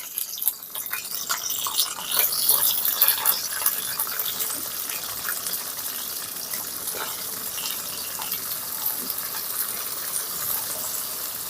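Small cauliflower florets frying in hot oil give off a steady, close, crackling sizzle that stays fairly even throughout, with no talking.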